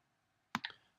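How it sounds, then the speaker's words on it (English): Two quick, quiet computer mouse clicks close together, a double click to unpack a zip file, in an otherwise silent room. "So I just double click to unpack it."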